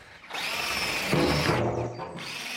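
A power drill whines steadily as it bores holes into the metal lid of an oil drum. It runs for about two seconds with a grinding bite partway through, close and alone without speech.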